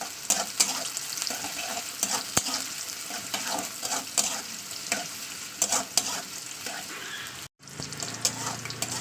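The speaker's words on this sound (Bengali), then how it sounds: "আমি দিয়ে দিচ্ছি পেঁয়াজ কুচি পেঁয়াজটা একটু লাল করে ভেজে নিতে হবে" Chopped onions frying in hot mustard oil in a pan, a dense steady sizzle with scraping stirs throughout, close and loud, cutting out briefly near the end before resuming.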